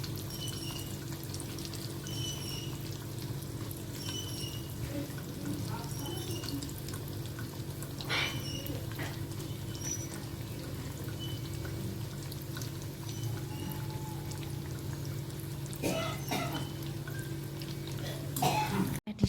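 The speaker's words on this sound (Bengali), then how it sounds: "এরকম করে আমি প্যাটিসগুলোকে ভেজে নেব লাল লাল করে" Patties frying in oil until reddish and crisp, a steady soft sizzle running throughout with faint clinks and stirring knocks near the end.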